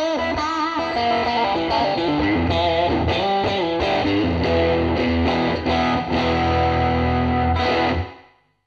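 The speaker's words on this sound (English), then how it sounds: "The tile reverb recreates a very small room with the tile," An instrument plays through a TC Electronic Hall of Fame pedal set to tile reverb, giving a small tiled, bathroom-like room sound with a short tail as the notes stop at the end.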